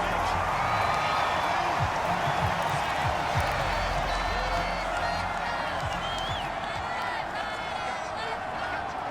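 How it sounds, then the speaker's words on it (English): Stadium crowd in Madden 22 during a Dolphins vs Titans game, a dense continuous roar of shouting and cheering that stays steady and loud throughout, with faint talk mixed into the din. "Plenty of shouts from this crowd as they watch the replay"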